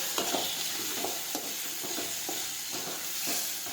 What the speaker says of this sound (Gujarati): હળદર નાખીશું, હવે સાતળી લઈશું.